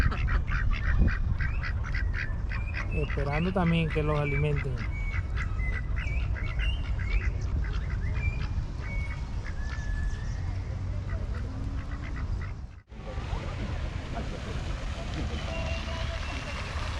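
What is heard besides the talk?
ducks in a park pond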